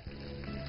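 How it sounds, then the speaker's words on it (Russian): Boiling water poured into a hot frying pan to make a spicy beef broth, a brief steady hiss and sizzle with a faint tonal ring, heard alone and quietly. "Далее наливаем кипяток."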